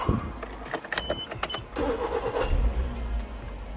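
A 2003–2010 Suzuki Swift with 45k on the clock starts after repair work. The engine cranks with a few sharp clicks, then catches and settles into a close, low idle.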